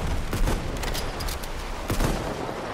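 Enemy machine gun fire in a World War-era video game, sounding as a dense, continuous rattle of distant gunshots with a few louder bursts standing out, and no talk over it.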